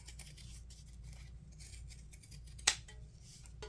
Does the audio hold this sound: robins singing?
no